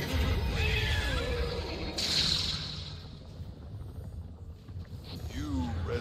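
A horse whinnies in the video game Destiny 2, its wavering cries rising and falling over loud, rushing ambient noise.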